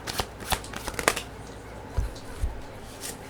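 Tarot cards shuffled and drawn close up in a few crisp bursts of riffling and snapping, followed by a couple of soft thuds as cards are set down.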